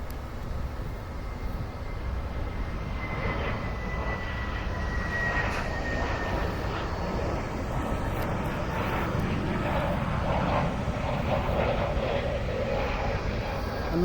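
A Spirit Airlines jet at Philadelphia International Airport rumbles at a distance, a faint, steady roar building slightly over the span.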